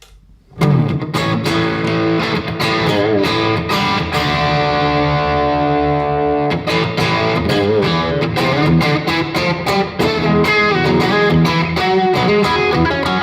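Distorted electric guitar through a pushed amp playing loud sustained chords and riffs with echoing delay and reverb, continuous and close.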